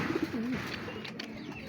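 A pigeon coos softly a few times nearby over a steady low background hum.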